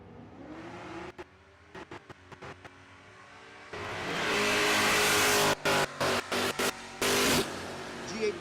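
A naturally aspirated G8 with an automatic transmission runs at a Texas Motorplex drag strip. A faint engine note with choppy bursts gives way to a loud, sustained roar, with commentary voices heard over it.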